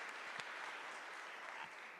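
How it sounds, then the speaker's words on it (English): A crowd at a Kenya-U.S. business forum in Washington, D.C. applauds the Vice President, a steady dense wash of clapping holding evenly for about two seconds with a few sharper claps standing out. "a round of applause for the Vice President"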